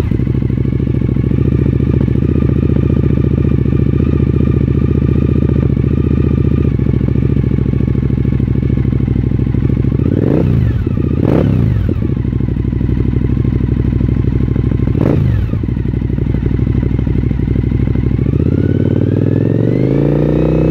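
Suzuki SV1000S motorcycle with newly fitted exhaust parts idling loudly up close, a steady throbbing V-twin rumble broken by two sharp throttle blips around the middle.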